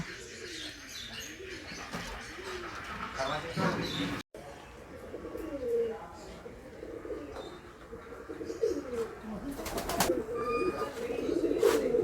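Birds kept in a park aviary in Balasore, Odisha, coo repeatedly in soft rhythmic phrases, with scattered chirps, while people talk nearby.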